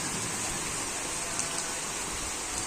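Heavy rain pours down in a dense, continuous hiss, steady and close, with no voices heard.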